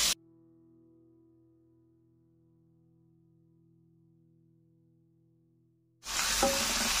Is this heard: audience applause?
no